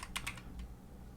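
A couple of quick keystrokes sound on a computer keyboard while writing Python code, two close, crisp clicks followed by a fainter tap and quiet room noise.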